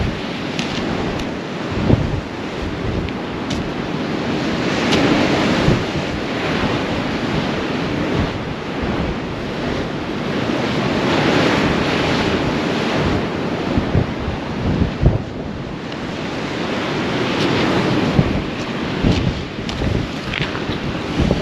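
Sea waves surge below a cliff on the Holderness coast at Easington, a constant rushing roar of surf mixed with wind buffeting, with swells rising and falling and occasional sharper thumps of gusts.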